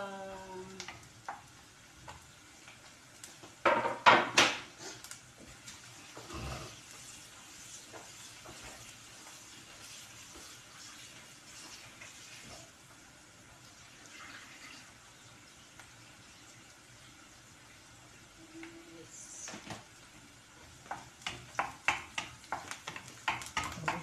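Garlic sautés in a pan on a home stove, with a low, faint sizzle running throughout and bursts of clattering as a utensil stirs and scrapes the pan near the start and again toward the end.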